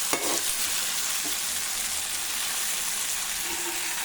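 Masala-rubbed, scored fish fries in a pan with a dense, even sizzle that holds steady throughout, close up, with a few light utensil clicks at the start.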